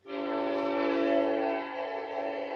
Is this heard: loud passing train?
yes